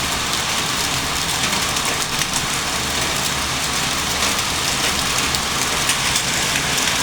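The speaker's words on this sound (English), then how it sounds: "So these are the last rains that we are having" Heavy rain from a hail storm in Maseru, Lesotho, a dense, loud, steady patter on surfaces throughout, with no voices.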